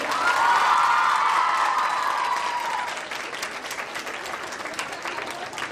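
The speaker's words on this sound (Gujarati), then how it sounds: "તાળીઓના ગડગડાટ સાથે વધાવીશું સાહેબને" Loud, dense applause from a large crowd at an annual day speech event, strongest at first and easing slightly but continuing steadily throughout.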